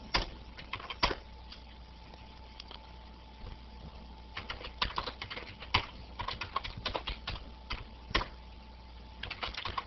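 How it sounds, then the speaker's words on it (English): Fingers tapping a computer keyboard in uneven bursts of quick keystrokes with short pauses between, close but fairly quiet over a soft steady background hum, and nobody talks. "but never mind, we can type it again."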